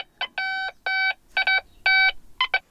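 A metal detector in untouched woodland gives a series of clear, separate electronic beeps in uneven bursts, close and alone, with a few short chirps at the end.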